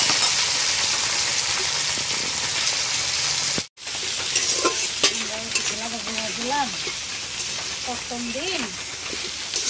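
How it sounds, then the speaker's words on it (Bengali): Chopped onions go into hot oil in a pan with coriander leaves while cooking jackfruit curry, sizzling steadily as a spatula stirs and scrapes; a voice speaks briefly partway through. "এবার আমি দিয়ে দেবো কেটে রাখা পেঁয়াজগুলো।"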